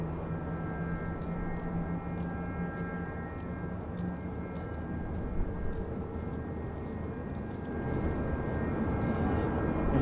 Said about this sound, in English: faintly heard there across just on taxiway Alpha